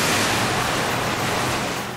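About 3,000 gallons of water dropped at once from a dump tank built from two stacked shipping containers, a loud, continuous roaring rush of water like crashing surf that stays dense and steady throughout, with no voices.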